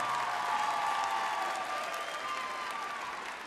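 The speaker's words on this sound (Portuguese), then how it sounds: "Uma salva de palmas, faz favor." A concert crowd at a live show applauds in a steady, full roar of clapping that holds evenly for a few seconds, then gently tapers, with no voices standing out.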